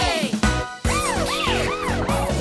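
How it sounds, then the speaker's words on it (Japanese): A police car siren inside a children's song, wailing up-and-down tones repeating over a synthesized musical backing, loud and upfront. "事件発生、パトカー出動。"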